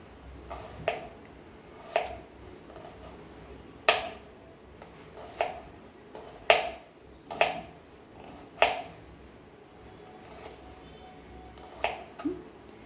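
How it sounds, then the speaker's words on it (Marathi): A knife chops through a large onion on a board, cutting close to the root, with about ten sharp, separate cuts at an uneven pace, close and clear against a quiet room. "एकदम जवळ असं कटिंग करून घ्यायचं सुरीने"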